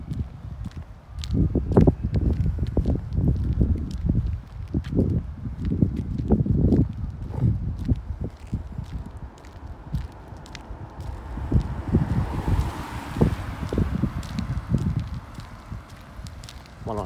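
Strong wind blows outdoors at a lake on a cold Sunday, buffeting the microphone with irregular low rumbling gusts and rustling that run continuously and fairly loud.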